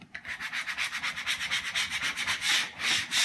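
Plastic scraper burnishing sticky vinyl flat, a quick series of rhythmic rubbing strokes, about a dozen close swipes in a few seconds, alone with no talk.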